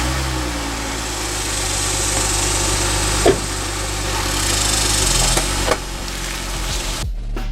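A Honda Accord's engine turns over and settles into a steady low idle, with a rumbling hum running throughout and a couple of brief knocks before it cuts off near the end.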